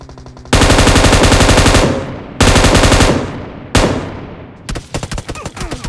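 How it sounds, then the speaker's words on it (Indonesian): Rapid bursts of automatic enemy gunfire in PUBG Mobile rattle loudly and close in three long sustained volleys, each tailing off, followed by a scatter of shorter, quieter shots. "itu dia nembak lo Pak Cik."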